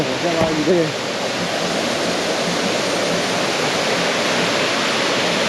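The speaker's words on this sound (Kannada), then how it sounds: "ನೋಡಿ ಯಾವ ಥರ ನೀರು ಇಳಿತಿದೆ" Water of a hidden waterfall near Dharmasthala roars as a steady broadband rush, close and continuous, with a brief voice at the start.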